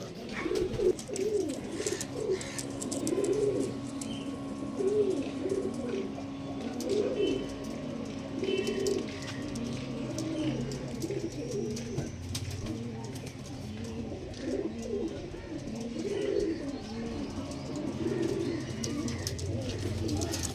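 Andhra Madrasi pigeons at a home loft coo steadily for the whole stretch, their soft, rolling calls overlapping in a continuous rhythmic murmur with no talk.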